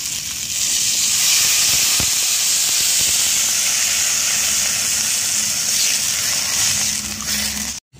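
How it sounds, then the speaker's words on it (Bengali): Water boils hard in a cooking pan of ginger, chillies, flat beans and brinjal, a loud steady hiss of steam and bubbling heard up close for about eight seconds. "আমি জলটা দিয়েছি, জলটা টকবক করে ফুটে উঠেছে"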